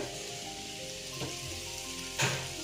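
Pakoda batter frying in hot oil gives a soft, steady sizzle with faint crackles and one brief louder splash near the end.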